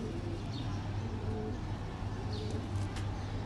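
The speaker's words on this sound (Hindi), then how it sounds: "इंडियन कबूतर है" Soft, low Indian pigeon cooing repeats over a steady background hum, with a few faint chirps from other birds in the distance.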